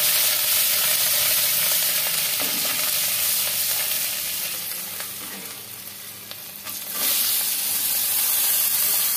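Ginger paste sizzles loudly and steadily in hot oil while being stirred, a dense close frying hiss that dips briefly in the middle before surging back, as filling for singara is cooked.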